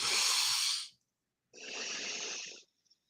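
Two long, airy breaths close to the ear during a deep-breathing exercise counted in fours, each a soft rushing inhale lasting about a second with a short silent pause between, no talking.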